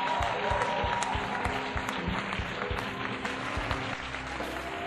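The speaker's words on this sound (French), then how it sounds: "Au nom de Jésus, acclamons le Seigneur" Congregation at a Christian worship service applauding and cheering, dense steady clapping with crowd noise filling the room throughout, no clear speech over it.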